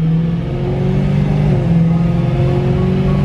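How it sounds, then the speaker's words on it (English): A loud car engine accelerates, heard from inside the cabin of a car with an automatic gearbox. The steady roar rises in pitch as it pulls, with no talking. "this car's loud."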